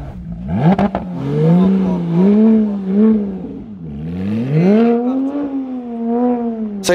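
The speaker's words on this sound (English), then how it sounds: "That is a straight pipe exhaust. Here's a few clips of a couple revs." A one-off Porsche GT3 RS rally car with a straight pipe exhaust revs several times, its raw tone rising and falling in close, loud sweeps with a brief dip between blips.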